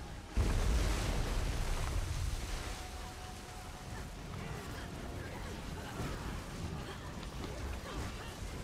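Broad ocean wave wash rolls on steadily throughout, with a heavier surge near the start then a continuous rumbling surf bed, fairly loud and alone without talk.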